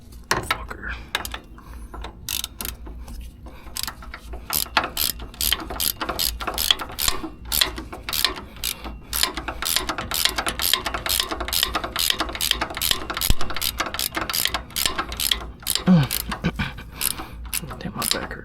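A hand ratchet clicks rapidly and repeatedly while tightening lug bolts on a 2010 Ford Raptor wheel hub during a wheel bearing replacement, the close, sharp pawl ticks coming in steady runs with faint background noise.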